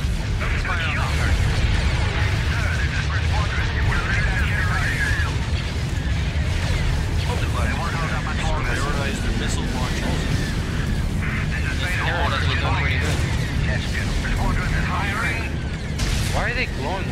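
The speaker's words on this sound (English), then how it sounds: "Targeting all cannons. Let's fire on the" Starship cannons fire on enemy ships during a space battle in a Star Wars Republic-versus-Techno-Union strategy game, a dense, continuous barrage of booms and blasts layered with music and effects while a voice talks over it.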